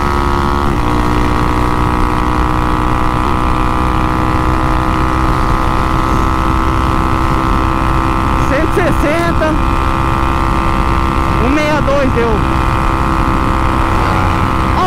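Loud, steady engine drone of a 371cc motorcycle on a highway, pitch rising and falling as it revs and speeds past, loudest twice near the end.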